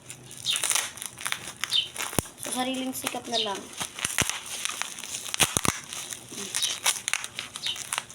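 Crinkly plastic packaging being torn and crumpled by hand in short bursts, with people talking over it nearby.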